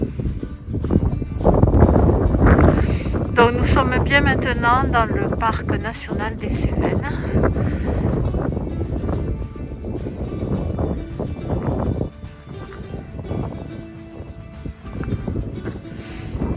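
Wind buffets the microphone with a loud, rumbling roar while someone talks over it throughout, on the summit of Mont Aigoual in the Cévennes at 3 degrees, near weather measuring instruments.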